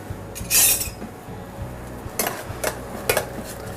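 A spoon stirs rice in a pot with a little salted water, giving a few clinks and scrapes against metal plus a louder clatter near the start, with no talking.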